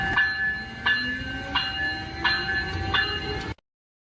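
An Amtrak train in the US sounds a chord of sustained horn-like tones in several evenly spaced bursts, fairly loud and close, before cutting off abruptly to silence.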